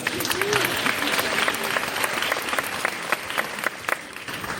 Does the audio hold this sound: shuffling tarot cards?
no